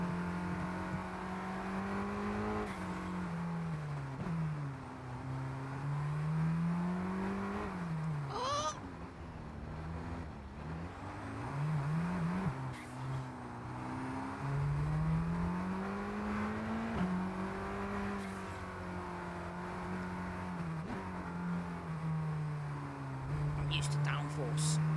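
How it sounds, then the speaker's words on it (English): A supercar howls around a lap in F1 23, its engine note climbing and dropping continuously through gear changes and corners, loud and sustained throughout. "We do a supercar lap for some reason."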